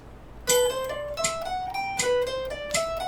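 A melodic instrument plays slow pentatonic triplets in a picking exercise, with clear, evenly spaced plucked notes that ring and decay one after another, heard alone.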